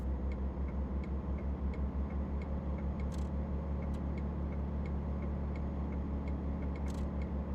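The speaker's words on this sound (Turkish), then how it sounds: "Her dakika sinyal veriyor benim." A truck's turn signal in Euro Truck Simulator 2, driven on a Turkey map mod. It ticks evenly and steadily for the whole stretch over a constant low engine drone.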